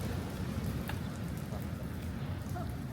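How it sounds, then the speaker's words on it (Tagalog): Steady rain keeps falling around an inflatable island play area in Subic near evening, a dense, even wash of patter and hiss that fills the whole stretch without pause or voices. "Kasi umuulan pa rin hanggang ngayon."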